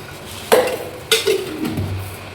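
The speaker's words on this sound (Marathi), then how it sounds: "आणि याच्यातच मी थोडेसे शेंगदाणेसुद्धा ॲड करते" Roasted chana, dal and peanuts tumble into a bowl in two quick clattering pours, followed by a brief softer rattle as the pieces settle, close and moderately loud.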